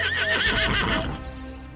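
A horse sound effect: a loud wavering neigh over a rush of galloping hooves, then the whinny fades as the hoofbeats carry on more quietly to the end.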